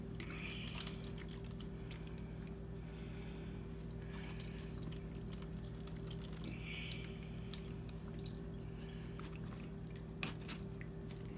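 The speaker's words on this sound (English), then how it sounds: "put it into a colander, start it draining off the excess marinade" Jerky marinade drips and trickles from meat draining in a colander, faint soft patters over a steady low mechanical hum.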